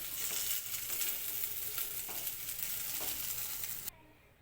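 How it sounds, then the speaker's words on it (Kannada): Okra frying in safflower oil in a pan, a steady bright sizzle with light stirring scrapes, close and continuous before cutting off abruptly near the end. "ಸ್ವಲ್ಪ ಕಣ್ಣು ಬೀಳೋ ತನಕ ಹುರ್ಕೊಳ್ಳಿ"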